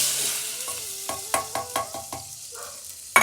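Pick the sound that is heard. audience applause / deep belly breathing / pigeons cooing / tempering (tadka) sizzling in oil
tempering (tadka) sizzling in oil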